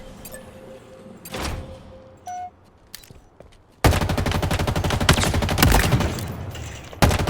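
Rapid rifle gunfire from the standard-issue rifle in the video game Halo Infinite, with a few scattered shots and clicks first, then a loud, sustained stretch of continuous automatic fire.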